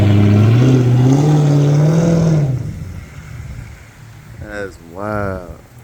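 A Mercedes SL R230 with a 5.0 V8 fires up cold with a loud exhaust, a rising, booming rev that hangs briefly and then drops to a quieter idle as people react with talk.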